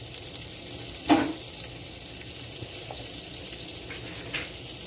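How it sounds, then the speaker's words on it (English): A small pat of butter sizzles in canola oil in a frying pan, a steady close crackle with a few sharper pops and clinks. "I use this, canola oil, And then I'm going to put just a little bit of butter in there."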